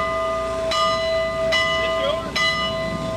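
A bell rings out at the fiftieth Irish parade in Erin, Tennessee, three evenly spaced clangs with long ringing tones over steady outdoor crowd noise.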